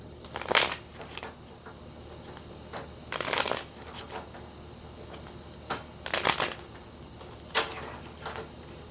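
Playing cards being shuffled in several short riffling bursts, spaced a few seconds apart, fairly close and quiet between bursts.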